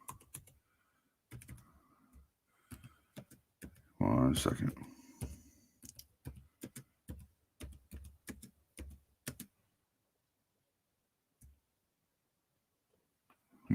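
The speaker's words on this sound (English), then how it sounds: "You want to hear me type?" Rapid bursts of clicky computer keyboard typing, close and fairly quiet, come in uneven flurries before trailing off into near silence, with a brief spoken phrase near the start.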